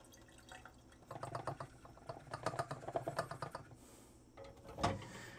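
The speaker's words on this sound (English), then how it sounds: "that was my first plain water rinse" Water rinse during homemade ECN-2 film processing, with close sloshing, dripping and pouring, a burst of splashes and then a final splash.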